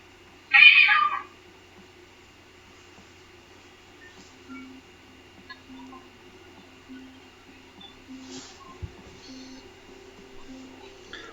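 A cat meows once, short and loud, near a front door, followed by a long stretch of quiet room hum with faint scattered clicks.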